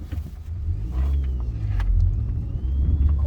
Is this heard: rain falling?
no